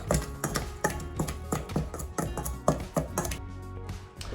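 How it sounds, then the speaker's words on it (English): Repeated squishy thuds and taps as guacamole is mashed with a ground beef separator in a bowl, a steady rhythm of roughly a dozen close, fairly loud strokes with no talking. "I'll use our ground beef separator again to mash this all up"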